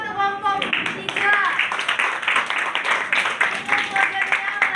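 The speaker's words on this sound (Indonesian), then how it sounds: "tepuk tangan untuk kelompok 3" A classroom of high school students claps for a presenting group, a quick burst of scattered hand claps mixed with chatter and voices.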